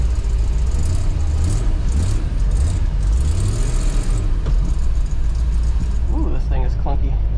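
Old 1960s Ford Mustang Fastback engine running at a steady low rumble, close and continuous, with a few rising revs and a voice talking briefly near the end.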